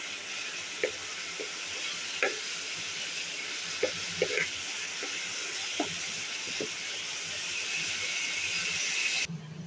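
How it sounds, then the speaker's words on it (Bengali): Yardlong beans fry in a pan with a soft, steady sizzle and hiss, broken by scattered light clicks of stirring. "আমার বরবটি ভর্তা বরবটিটা ভাজা ভাজা হয়ে আসছে"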